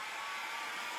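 Heat gun blows a steady, close airy roar while warming a wooden U-bend moulding, an unbroken hiss with no other sounds.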